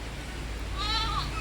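A single high, thin bleat from a cross-breed male goat kid about one and a half months old rises briefly over steady background hiss and low rumble.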